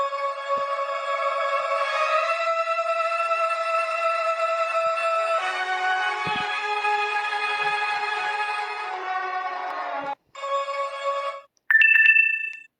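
An Emergency Alert System alarm tone sounds loud and steady as a harsh two-tone electronic drone, then breaks off near the end into short bursts and a higher beep.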